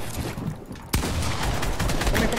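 Rapid gunfire in the video game Fortnite, with loud, close, repeated shots in quick bursts over a steady noisy background and no clear talking.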